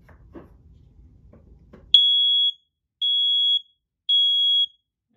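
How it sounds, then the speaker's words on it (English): After a few faint rustles, a smoke detector in a fire alarm system test, set off with sprayed test smoke, emits three loud, piercing electronic beeps, evenly spaced about a second apart. "Now I'll go ahead and test the smoke detector by just spraying some smoke."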